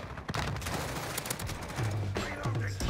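M4 rifle fire with full-metal-jacket rounds in Call of Duty crackles in rapid, dense bursts, loud and close, with a few brief gaps between volleys.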